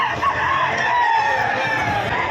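Chickens offered for sale at a fowl market cluck and crow steadily close by, their calls layered over a busy background of people talking.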